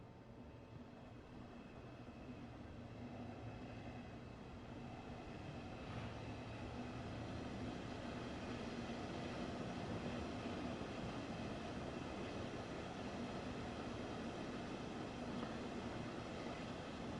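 A diesel multiple unit train running in Train Sim World on the Dresden–Chemnitz line, giving a steady low rumble and engine drone that stays fairly constant throughout.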